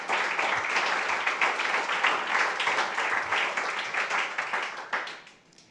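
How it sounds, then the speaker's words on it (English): Conference audience applauding at a climate action event in London, a dense sustained round of clapping that stays steady and loud before tapering off at the end. "a round of applause for the Open Challenge launching"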